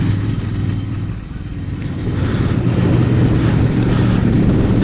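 Royal Enfield Interceptor 650 riding along a back road, its steady engine drone rising slightly as it picks up speed, mixed with constant wind rush across the microphone.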